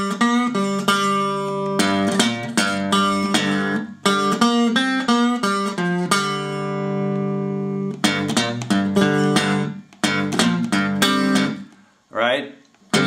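A guitar plays the opening sixteen notes of a Delta blues riff, a steady run of plucked notes in several phrases with short pauses, loud and close, ending with a brief softer tail.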